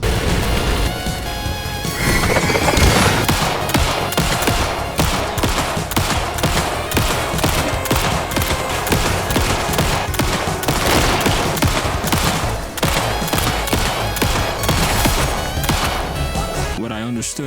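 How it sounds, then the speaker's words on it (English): Sustained gunfire against a monster in Alan Wake 2 hammers on almost without pause, a dense barrage of loud close shots and crashing impacts layered over tense game sound. "What I understood apparently was get more ammo, then shoot it till it dies"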